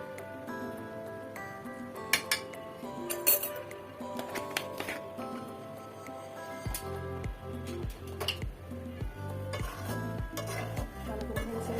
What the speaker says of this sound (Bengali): ভালো করে নেড়ে ছেড়ে দিলাম।